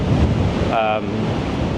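Strong wind roars steadily across a microphone on the outdoor deck of the cruise ship Celebrity Apex, with a short tonal whine partway through and no voices.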